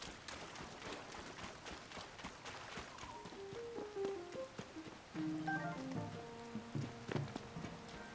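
Steady rain patters over the scene in The Legend of Zelda: Tears of the Kingdom, a soft continuous hiss of drops on the ground with musical chimes and tones rising over it partway through.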